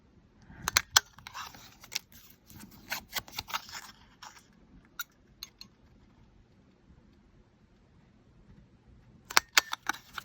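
A handheld craft punch cuts paper tags in sharp, close clicks and snaps. The clicks come in bursts at the start, drop to scattered taps in a quiet middle and return in a quick cluster at the end.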